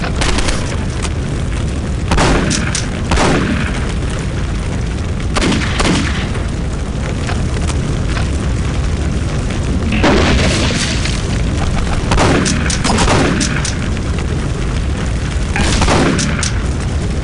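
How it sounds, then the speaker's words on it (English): Gunfire in the PC game Postal 2, with repeated booming shots at irregular intervals over a dense, constant background din, each report sharp and loud. "it's a lot more entertaining to see me shoot random people than just run away"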